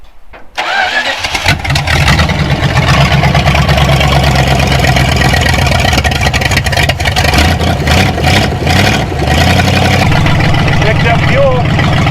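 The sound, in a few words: engine starting and running after cranking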